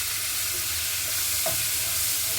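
Frozen peas sautéed with onion and garlic in a pan give off a loud, steady sizzle with stirring throughout, close up and with no voices.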